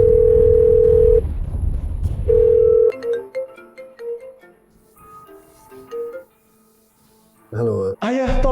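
A steady telephone dial tone plays in two long stretches while a call is placed during a kidnapping drama scene, followed by a burst of ringback-like tones and musical notes near the end.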